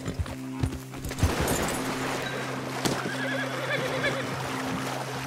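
A horse in the video game Red Dead Redemption 2 whinnies loudly up close, followed by clip-clopping hooves and faint water sounds in the background.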